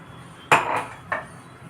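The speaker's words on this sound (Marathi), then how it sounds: "मी आता हे मिक्सरचं भांडं धुवून टाकते" A metal mixer grinder jar knocked and clattered while being rinsed, two sharp clanks with a short rattle between them, close and fairly loud, with no voices.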